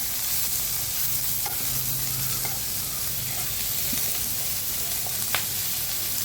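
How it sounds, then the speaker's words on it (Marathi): Val bean pods frying in a pan until crispy, giving a continuous dense sizzling hiss close up, with occasional faint clicks of stirring throughout. "त्यामुळं वालाच्या शेंगेला छान असं ते क्रिस्पी होऊन थोडीशी चव छान येते. असे फ्राय करून घ्यायचं मस्त."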